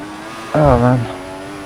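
A Formula 1 car engine in F1 2014 rises briefly in a wavering whine, loud and close for under half a second before fading back to a steady hum.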